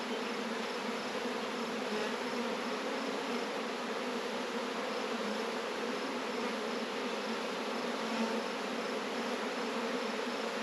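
A dense crowd of honey bees drones around a crowded, swarm-prone nuc, a continuous, even hum with a faint high whine above it and no pauses or voices.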